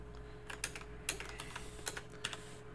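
Keys clacking as code is typed on a computer keyboard, a sparse run of separate quiet taps with short gaps between them, close and soft against a low steady hum.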